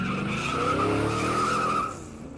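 Car speeding off with tires screeching, a loud sustained squeal over engine roar for about two seconds, close by, then dropping away as the car pulls off.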